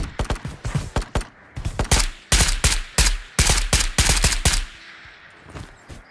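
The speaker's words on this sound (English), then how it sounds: "The AK-5C putting them down" AK-5C rifle fire in a video game: rapid bursts of automatic shots in several tight clusters, loud and close, with short pauses between volleys and no talking.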